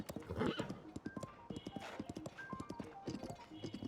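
Horse hooves from Zelda: Tears of the Kingdom clip-clop in a steady, quick galloping rhythm, with a brief whinny mixed in and game ambience underneath.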